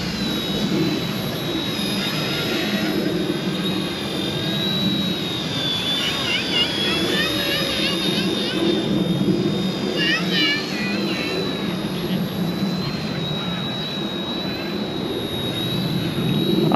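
Tiny Eachine E110 RC helicopter flying outdoors in wind, a thin high-pitched motor whine that rises and wavers in pitch over steady wind rumble, with the pilot's voice briefly audible.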